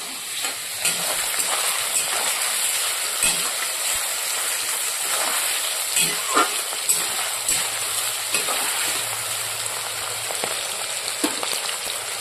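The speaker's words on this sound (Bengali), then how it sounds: "তো ভেজে নিচ্ছি লাল লাল করে।" Meto (liver) frying in a pan until reddish, a steady broadband sizzle and hiss running throughout with occasional soft crackles and stir clicks, close and continuous, no voices.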